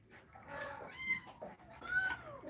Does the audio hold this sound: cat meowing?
yes